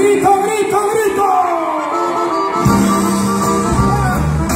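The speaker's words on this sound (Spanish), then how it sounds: "¡Échese un grito, grito, grito!" A crowd at an outdoor recognition event in San Pedro, Coahuila bellows and whoops, voices rising and merging into sustained cheering, with a sudden shift to a denser roar partway through.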